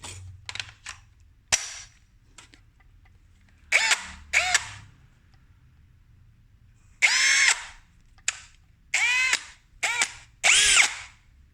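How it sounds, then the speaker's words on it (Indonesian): Power drill boring into a part of a Marantz CD-72Mk2SE CD player, a series of short, close whirring bursts of varying length separated by quiet pauses. "Saya akan bor."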